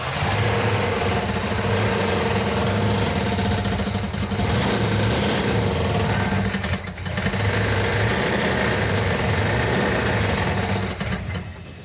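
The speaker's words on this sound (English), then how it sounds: "The engine is making a metallic knocking sound." A rebuilt 1970 Plymouth Cuda 340 V8 idles steadily and loudly close by, a continuous rough rumble with a faint metallic knocking that is hard to pick out, and a brief dip near seven seconds.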